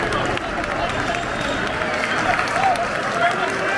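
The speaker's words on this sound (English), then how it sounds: "1-0 to Swindon Town, and the crowd goes wild." A football crowd roars steadily for a Swindon Town goal against Walsall, a dense, loud wall of cheering and clapping with no break across the whole stretch.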